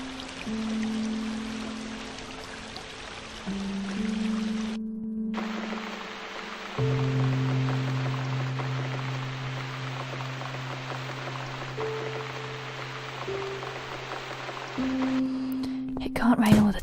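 Steady rain falls in The Cat Lady horror game, a continuous soft hiss beneath low sustained droning music tones that shift pitch every few seconds, with a short gap of near-silence midway.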